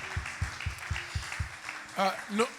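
Rhythmic hand clapping from a church congregation, about six sharp claps at a steady beat, then shouted voices near the end.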